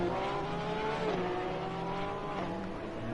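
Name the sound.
Ferrari race car spinning in chicane, video game Assetto Corsa Competizione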